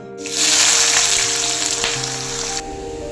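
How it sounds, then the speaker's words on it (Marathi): Onion drops into hot oil left from frying cashews and bursts into a loud, dense, hissing sizzle that holds steady and then eases slightly, close up, with a faint hum underneath. "आता याच तेलामध्ये कांदा तळून फ्राय करू."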